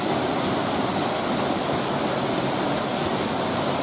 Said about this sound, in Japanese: 滝のね、音でかき消されてしまうと思います